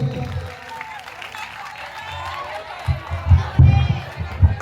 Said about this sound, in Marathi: किमान 2 मिनिटं टाळ्या वाजल्या पाहिजे.